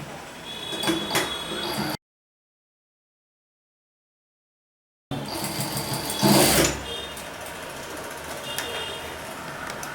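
A domestic sewing machine stitches the belt of a pair of shorts in short, rattling bursts separated by a break, with a louder clattering moment near the end.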